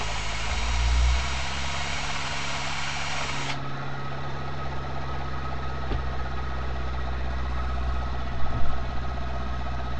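An electric motor running under test, a steady low hum and whirring drone that changes character a few seconds in and rises briefly near the end as it is pushed to speed up, close with no talk.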